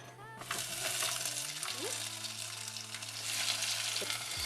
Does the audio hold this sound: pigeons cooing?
no